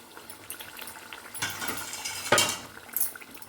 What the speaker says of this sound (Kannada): ಇವಾಗ ನೋಡಿ ಟೊಮೆಟೊನ ರುಬ್ಬಿಟ್ಕೊಂಡಿದ್ದೀನಲ್ಲ ಅದು ಕೂಡ ಇವಾಗಲೇ ಹಾಕ್ಕೊಳ್ತೀನಿ